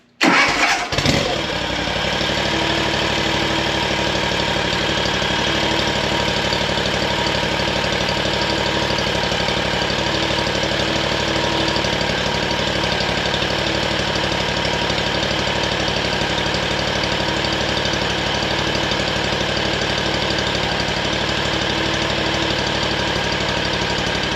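An engine cranks briefly and catches right after an oil change with a fresh filter, then settles into a loud, steady idle with a constant rough clatter that runs unbroken for over twenty seconds, no voices.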